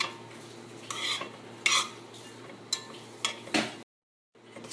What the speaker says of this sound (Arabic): هقلب الرز شوية بالسمنة.